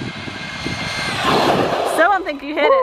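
An Arrma Typhon 1/8 4x4 3S BLX brushless RC buggy driven at full throttle: a steady, rising high-pitched electric whine that builds to a peak, then gives way to someone talking.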